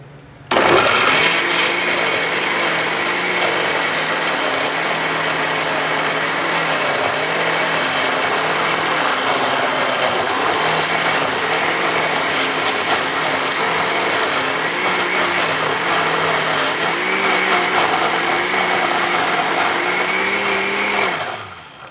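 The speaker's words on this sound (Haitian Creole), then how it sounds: "Mettez et vous continuez à blender." A blender runs continuously and loudly at close range, whirring through a spiced mixture of chili pepper, salt and Maggi seasoning, its motor pitch dipping slightly now and then as the load shifts.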